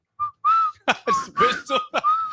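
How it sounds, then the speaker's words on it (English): A person whistles a short tune, clear and close, with a few sustained notes broken by brief gaps. "Just whistling."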